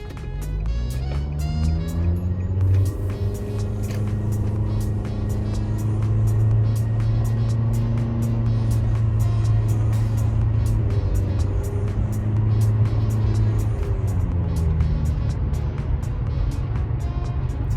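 A Nissan Altima with a modified exhaust and CVT transmission pulls away from a stop sign with a steady, droning exhaust note that holds a sustained tone as it accelerates, loud and close with no talking.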